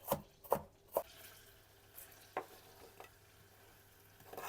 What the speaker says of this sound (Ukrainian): Поки тушкується цибуля, на ну, цибулю треба завжди помішувати, щоб вона не пригоріла